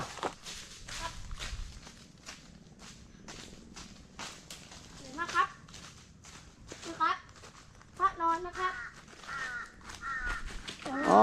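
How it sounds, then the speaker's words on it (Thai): Four or five crows caw from above at a Buddhist temple on a sandstone cliff hill, with repeated harsh calls scattered across the clip alongside footsteps and nearby voices talking. "ข้างบนก็เป็นอีกาอยู่ประมาณสี่ห้าตัวนะร้องกากากา"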